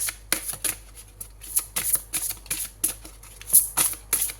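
Tarot cards being shuffled and drawn, a steady run of crisp, papery riffles and flicks close at hand, repeating in quick irregular bursts with no voice over them.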